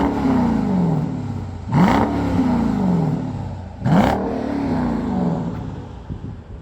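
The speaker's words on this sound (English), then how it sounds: "can you do an exhaust clip?" A 2019 Dodge Durango SRT is revved at a standstill, a loud, close exhaust that climbs in two sharp blips, each rising and sagging back to a rumbling idle between them.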